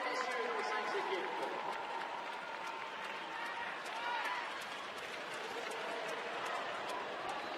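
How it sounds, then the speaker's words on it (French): Arena crowd at a short track speed skating World Cup men's 5000 m relay semifinal applauds the five teams, a broad wash of distant clapping and cheering under an announcer's voice. "Let's hear it for our five teams"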